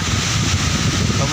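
Steady wind gusting at Soge beach in Pacitan buffets the microphone with a dense, continuous rumble, while someone talks over it.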